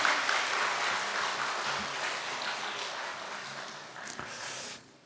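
A church congregation at a Sunday worship service applauds to welcome a guest, producing soft, diffuse clapping that carries on steadily for several seconds before fading out.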